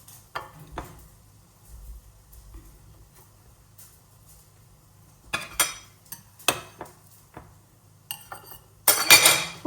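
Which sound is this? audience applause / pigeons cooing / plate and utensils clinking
plate and utensils clinking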